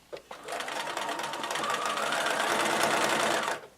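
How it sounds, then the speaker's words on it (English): Sewing machine stitching a flying geese quilt block: a short click, then a steady, close mechanical whir that runs continuously for about three seconds before stopping. "So let me line this up, get all the edges lined up, and I'm ready to sew."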